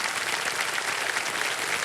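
Studio audience on a quiz game show breaks into dense, steady applause that stays loud and even throughout, close and enveloping, with no voices over it.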